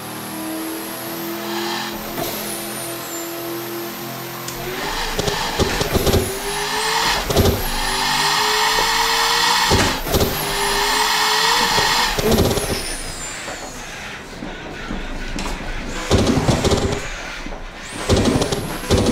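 A 3000 HP LSX turbo GMC Suburban in Assetto Corsa revs hard with rolling anti-lag, loud and close, rising engine pitch broken by sharp crackles and pops between throttle surges.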